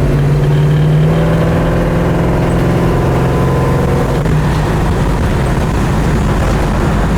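A 1968 Chevrolet Chevelle SS 396 with its V8 engine rumbling loud and steady from inside the car while driving, a deep continuous throaty drone with no talking.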